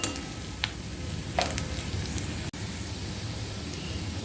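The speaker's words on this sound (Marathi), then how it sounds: "आता आपण कांदा मिरची आणि लसूण चांगलं असं तेलावरती परतून घेऊया" Onion, green chili and garlic fry in hot oil with a dense, even hiss and a couple of brief clicks near the start; no voices.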